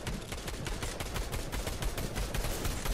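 Sustained automatic gunfire from AI-controlled enemies in a Fortnite match, dense overlapping shots rattling continuously without pause, loud and close throughout.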